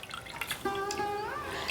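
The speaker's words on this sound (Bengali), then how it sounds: "এই রুমালটাকে জলে ভিজিয়ে আমি মুছে নেব।" A handkerchief is soaked in water, with a close trickle and a rising gurgling tone as liquid pours and drips into a small container.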